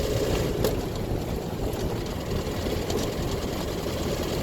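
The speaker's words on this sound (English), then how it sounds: "You can hear the tappets going." A car engine idles with its valve tappets ticking, running just after a transmission replacement, a steady low rumble with a faint, fast mechanical ticking throughout and no talk.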